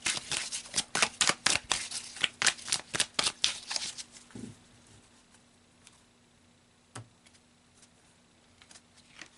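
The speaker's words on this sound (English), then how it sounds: "So let's pull 2 cards to wrap this up." Tarot cards are riffled and shuffled up close in rapid crisp bursts for several seconds, then give way to quiet with a couple of soft taps.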